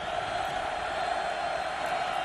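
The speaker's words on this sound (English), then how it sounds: "The crowd picks up here at Razor Stadium." Football stadium crowd at Razor Stadium during an Oregon State versus Arizona State game, a dense sustained roar of many distant voices, steady and loud throughout the short stretch.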